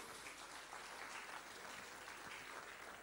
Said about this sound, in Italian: Grazie, un applauso anche a loro.